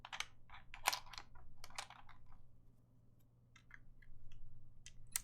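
Typing on a Space65 keyboard fitted with Cherry MX Vintage Black switches and GMK keycaps gives close, crisp keystroke clacks, some in quick clusters and some alone, over a faint low hum in an otherwise quiet room.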